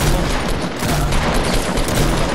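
Rapid bursts of gunfire crackle from a Fortnite match. The shots come in a dense, continuous volley that stays loud and close for the whole short stretch, with no voices over it.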